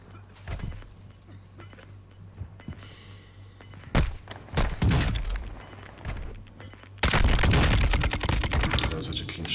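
Gunfire in the Warzone 2.0 video game comes in sharp loud single shots and bursts, then a dense burst of rapid fire with breaking clatter, set against a quieter ambient hum with faint talk.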